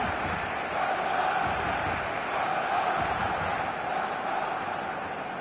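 A stadium crowd in the eFootball video game on PS5 roars as a dense, steady wash of voices and cheering, sustained throughout with no break.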